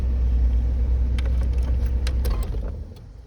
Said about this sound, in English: we now have a very nice steady idle in the ballpark of 800 to 850 RPM